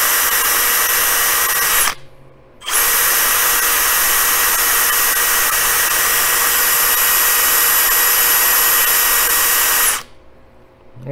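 A rotary tool buffs a pistol feed ramp, a loud high-pitched steady whine running in two long stretches with a brief pause between, alone without talk.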